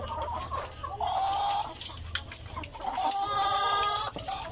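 Several backyard poultry chickens cluck and call close by, with bursts of higher squawks over a steady low background hum.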